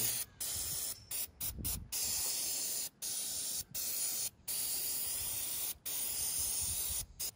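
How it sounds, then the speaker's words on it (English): Brake cleaner sprayed in repeated long bursts with short pauses to blow out an engine's nooks during a turbocharged engine swap, a loud close hiss filling the scene with no talking. "Just blow it all out real good with brake cleaner."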